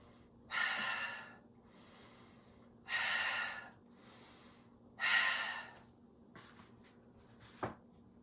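Slow deep breaths during a yoga detox flow, three loud, close airy exhales spaced a couple of seconds apart, followed by a quieter breath and a brief soft knock, with no talk.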